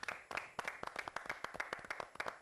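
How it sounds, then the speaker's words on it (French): A TV talk-show studio audience claps to welcome a guest, a close, uneven patter of hand claps with distinct individual slaps standing out, steady for a couple of seconds and fairly loud. "On va applaudir pour la soutenir."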